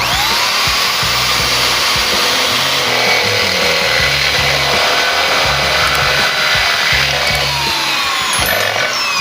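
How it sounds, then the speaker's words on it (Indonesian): A power drill bores holes into the bottom of a large stainless steel cup, a loud continuous whine with rhythmic dips in pitch as the bit bites into the metal. "saya akan lubangi di bawahnya seperti ini"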